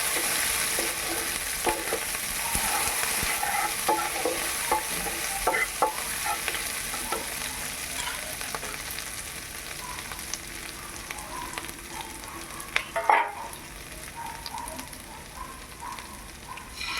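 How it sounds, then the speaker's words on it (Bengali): Ginger and garlic paste fry and sizzle steadily in a pan for egg pepper fry, with a spoon stirring and scraping at intervals, close and fairly quiet, no voices. "আদা রসুনটাকে আমি ভালো করে ভেজে নেবো যাতে রসুনের কাঁচা গন্ধ চলে যায়"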